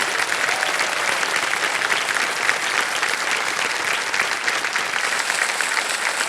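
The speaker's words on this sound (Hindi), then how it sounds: "तालियां बज जाए इनके लिए।" Studio audience applause on the KBC (Kaun Banega Crorepati) quiz game show, a steady, dense clapping from a large crowd that stays loud and even throughout without pause.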